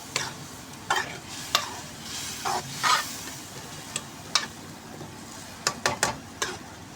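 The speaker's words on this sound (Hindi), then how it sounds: "अब इसको हम अच्छे तरीके से मिक्स करेंगे मसाले सारे को चिकन के अंदर" Spices are stirred into chicken in a cooking pan, with a soft sizzle underneath and repeated sharp scraping strokes of a spoon against the pan at an irregular pace.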